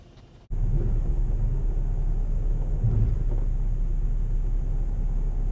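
Machinery in an automatic car wash starts up abruptly and runs with a loud, steady rumble and hiss, rough-sounding, continuing unbroken with no voices.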